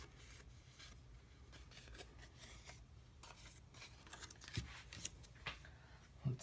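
Scissors cut through paper for Mickey Mouse paper gingerbread men with quiet, close, repeated snips and rustling, growing a little louder with a few sharper cuts toward the end.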